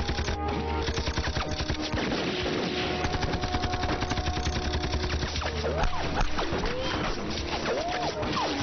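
Dense, continuous machine gun fire in a Hollywood army action movie dubbed in Hindi, heavy overlapping bursts forming a steady barrage under a rumbling, muffled soundtrack, with voices shouting faintly beneath the gunfire.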